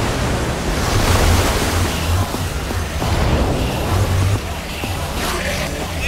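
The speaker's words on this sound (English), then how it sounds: "don't know how much water this thing is gonna kick out." In a Minecraft animation, a mechanism released by a lever lets loose a loud, steady rush of water that roars continuously, with surging swells and no speech over it.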